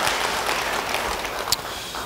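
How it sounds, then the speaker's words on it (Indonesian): A church congregation gives moderate, even applause during a sermon, a soft continuous patter of clapping heard from some distance. "Yang mau beri tepuk tangan bagi dia"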